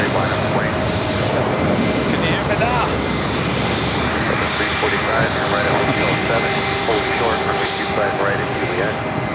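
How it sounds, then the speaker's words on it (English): A jet airliner, a converted 767, takes off at Los Angeles airport with a loud, sustained engine roar and whine that holds steady throughout. "Next takeoff is the Tom Airlines Flight 603 heading to Santiago."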